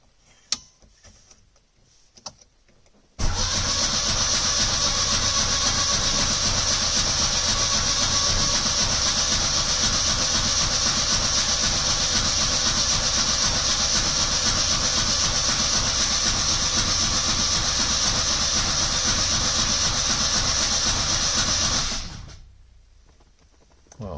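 The rebuilt engine of a 1970 Lancia Flavia Milleotto LX catches on its first start after a few faint clicks and runs steadily and loudly for about twenty seconds with a fast even ticking, then shuts off and fades.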